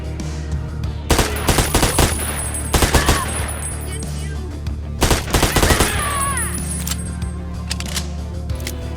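Gunfire in the video game Ashes: Afterglow, with several loud bursts of rapid shots in separate volleys, close and punchy, and someone speaking between them.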